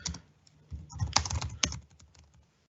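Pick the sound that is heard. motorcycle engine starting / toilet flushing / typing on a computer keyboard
typing on a computer keyboard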